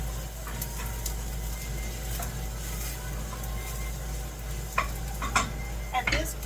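An olive wood spoon stirs onions in a warm pan with soft, continuous scraping over a low hum, and a few sharper knocks of wood against the pan near the end.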